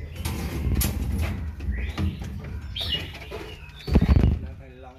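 White-rumped shamas at a large Vietnamese bird farm for long-tailed shamas, with chirps and fluttering wings heard faintly among steady background noise and voices talking nearby.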